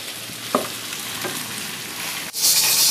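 Okra frying in a pan for mutton bhindi masala, a broad, steady hiss that swells louder near the end, with one soft clack early on.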